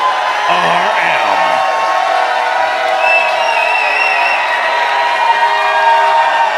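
A hometown crowd at a professional wrestling show roars in a loud, steady wall of cheering and whoops, with voices rising and falling throughout.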